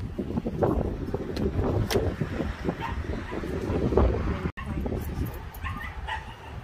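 Dogs at an outdoor car gathering bark and whimper in short yips and whines, close to the microphone, with wind buffeting the mic throughout.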